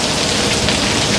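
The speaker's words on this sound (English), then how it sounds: "The rain's been coming all day." Heavy rain pours down in Kuala Lumpur, a loud, dense, unbroken hiss of falling water close by, with no voices.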